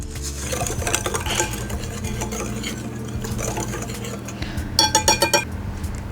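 A whisk stirs Dutch cocoa powder through dry cake ingredients in a bowl, producing steady scraping and rhythmic clinking against the sides, with a quick burst of faster taps near the end.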